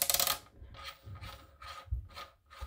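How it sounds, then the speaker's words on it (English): Ratcheting clicks from the magazine cap of a Mossberg SA-20 shotgun being rotated open, a loud rasping burst followed by four evenly spaced, softer detent clicks as it passes a spring, close up with no talk. "You hear a ratcheting sound,"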